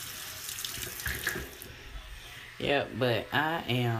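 Water runs from a tap onto a spin brush during skin cleansing, a steady splashing hiss under a person talking, with voiced speech taking over in the second half.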